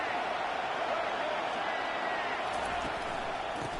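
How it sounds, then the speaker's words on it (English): Steady roar of a stadium crowd cheering for the defense on third down in an NCAA college football video game, SMU matchup, a dense continuous wash of noise holding level throughout. "Decibels rising as the crowd gets behind this defense on third down."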